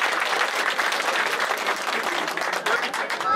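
Dense applause from a crowd at a Turkish mayor's visit in Fethiye, steady and loud for a few seconds, with scattered individual claps standing out.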